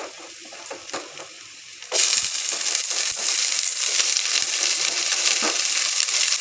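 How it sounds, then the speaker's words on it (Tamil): Capsicum hits a hot pan to be sautéed, starting with a few light clinks and then a sudden loud sizzle that continues steadily, with occasional scraping taps of stirring. "கேப்சிகம் ஃபுல்லாக சேர்த்துட்டும் கொஞ்சமாக வதக்கி விட்டுக்கலாம்."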